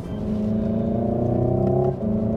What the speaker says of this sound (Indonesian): saya pindahin gigi kan tinggal gini aja ya